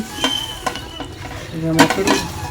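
Curry leaves frying in a pan, with a light sizzle under sharp metallic clinks and scrapes of a utensil stirring against the pan, close by; a brief voice sounds partway through.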